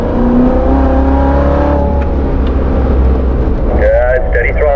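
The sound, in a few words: performance car engine on race track, throttle to full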